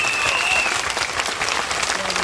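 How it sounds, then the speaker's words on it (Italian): An audience claps loudly and steadily to greet contest participants at an outdoor summer amateur talent show in Ruvo di Puglia, a dense crowd applause with cheering voices mixed in throughout. "con un grande applauso tutti quanti!"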